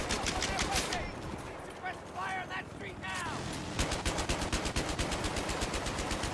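Rapid automatic gunfire in the video game Battlefield 3, dense bursts of shots with explosions, loud and near, with shouting voices in between.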